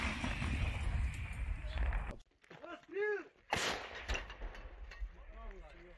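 An artillery gun firing at Russian positions in the Bakhmut direction, with a heavy blast cutting through outdoor noise, followed by a sharp second report and someone shouting nearby.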